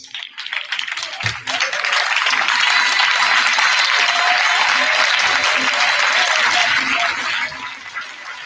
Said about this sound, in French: Ce matin, je veux que tu acclames le Seigneur Jésus.